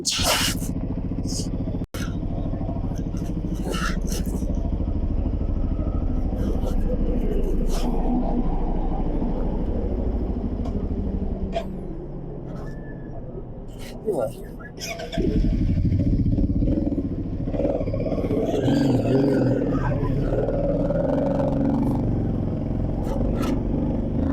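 A CFMOTO 450MT motorcycle engine runs during a test ride, giving a loud, continuous drone with wind noise and occasional clicks and rattles. The engine dips briefly near the middle and then pulls harder, and there is no clear speech.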